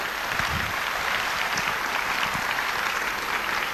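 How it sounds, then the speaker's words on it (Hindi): A large audience at a 1989 stage show in Holland gives sustained, dense applause, steady and loud throughout, with no talk over it. "मैं चाहूंगा उन दोनों के लिए जोरदार तालियां बजाइए प्लीज"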